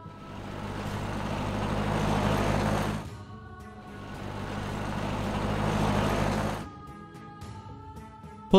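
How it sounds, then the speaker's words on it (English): A taxi engine rumbles and builds in two loud, close surges, each ending abruptly, followed by a quieter idling hum. "Taxi."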